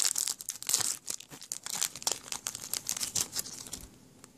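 A 2014 Yu-Gi-Oh Star Pack foil booster is torn open close up, giving a quiet run of sharp crinkles and tearing rips that fade toward the end.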